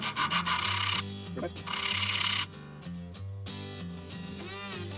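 Abrasive sanding strokes flatten a knife handle made of ebony and stabilized curly maple, a few rapid rubbing bursts at first, then a longer steady scrape that stops abruptly, leaving quieter shuffling and handling noises.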